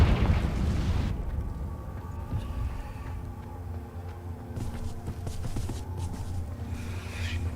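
Confringo fire spell explodes in Hogwarts Legacy, a heavy booming blast at the start fading into a low rumbling crackle with scattered pops and small bursts, no talking.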